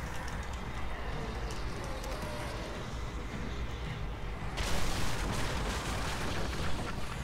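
Fire burning in The Evil Within video game gives a steady, crackling roar of flames that thickens partway through, with dense rumbling game noise throughout and no talk over it.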